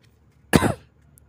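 One single, fairly loud cough bursts out close by against a quiet background, fading quickly.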